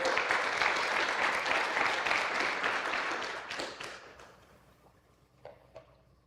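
A church congregation applauds together in a dense, loud burst of clapping that gradually thins and fades out, leaving a few scattered claps at the end.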